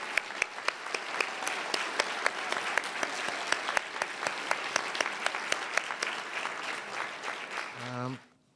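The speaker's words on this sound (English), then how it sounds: "Let's give each one of those in the total group a round of applause again." Audience applause at an awards ceremony for distinguished DC government employees, sustained dense clapping with sharp individual claps that fades out at the end, followed by a brief voice.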